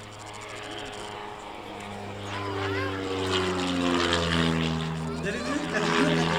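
A propeller aerobatic plane performs a snap roll at the 2023 Belvès Saint-Pardoux air show, its engine droning steadily and rising in pitch as it maneuvers, while a commentator talks throughout.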